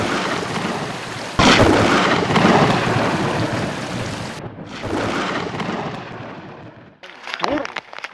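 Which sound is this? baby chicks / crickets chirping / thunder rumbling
thunder rumbling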